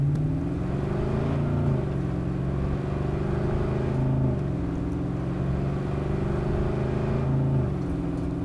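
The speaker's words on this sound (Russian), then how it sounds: "Есть только звук от мотора." A car engine in Cyberpunk 2077 drones steadily, rising and falling in pitch a few times as it revs, with no voices.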